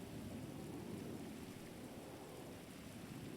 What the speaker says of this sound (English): the rain in the background is dramatic effect